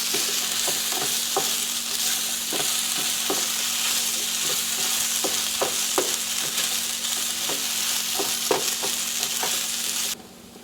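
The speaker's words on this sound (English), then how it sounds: "We got some potatoes frying up here." Potatoes frying in a pan, a steady loud sizzle with scattered crackles and pops throughout, close up, cutting off near the end.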